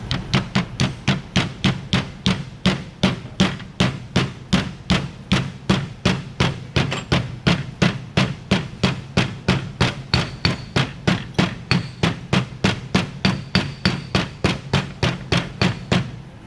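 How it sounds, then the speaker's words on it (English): Rapid, steady metal hammer blows ring out continuously as a wheel hub seal is driven into a 1980-1996 Ford F-150/F-250/Bronco hub, dozens of sharp close strikes in an even rhythm with no talking. "now we're gonna take our seal, and just goes right here, and our trusty hammer."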